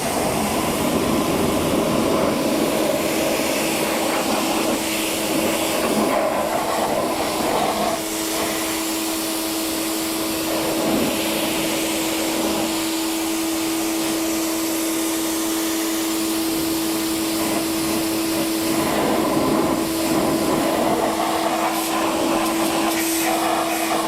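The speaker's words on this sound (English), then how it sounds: "it is cleaning the wheel up very nicely with the pressure washer" A pressure washer sprays a dirty car wheel coated in tyre cleaner, giving a loud, steady hiss with a constant motor whine. It runs continuously and close for the whole stretch, with no talking.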